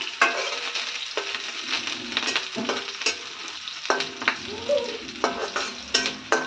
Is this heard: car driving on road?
no